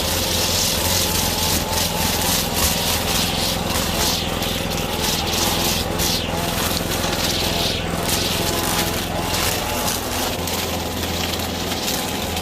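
A lawn mower engine drones steadily and loudly through the whole stretch while mowing grass, with no pauses or talk.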